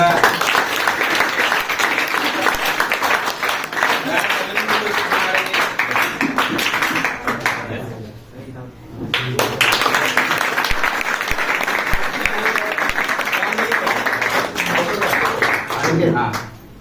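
Loud, sustained applause from an audience clapping for a student at a school award ceremony, dense and continuous with a brief dip midway before swelling again.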